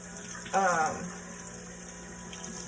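Hot water runs from a kitchen tap while frozen green mussels are rinsed, a steady close hiss with a louder gushing swell partway through.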